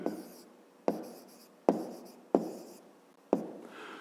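A pen writes on paper while a maths exercise is worked by hand. Five distinct strokes of scratchy scribbling each start sharply and then trail off, close and quiet, with no talking.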